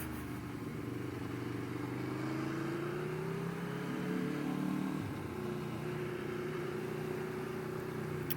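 Aprilia Tuono V4 Factory motorcycle on a Sunday country ride, its engine note rising and falling smoothly under wind rush, fairly quiet and continuous.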